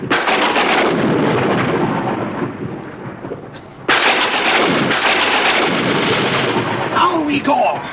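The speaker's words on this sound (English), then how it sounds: "The storm is at its height." Heavy thunderstorm from a comedy sketch: a continuous loud rumbling roar of thunder and rain, dipping slightly before a sharp thunderclap near the middle, then rumbling on at full strength with no voices.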